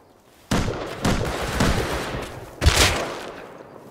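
Gunfire in the battle royale game PUBG: several loud, sharp shots and bursts crack out at irregular intervals, the heaviest near the end, with no talking over them.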